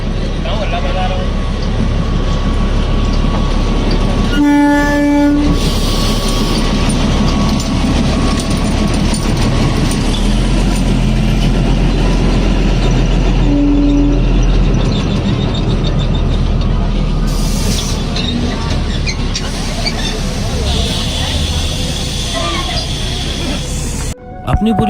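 Narrow gauge train running between Gwalior and Sabalgarh, a loud steady rumble and rattle of the carriages heard from on board, with a horn sounding partway through and someone talking over the noise.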